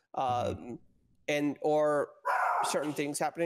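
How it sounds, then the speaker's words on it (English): Dog barking in bursts close by, overlapping with someone talking throughout. "Sorry about my dog going crazy."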